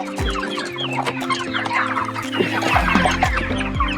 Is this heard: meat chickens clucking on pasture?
yes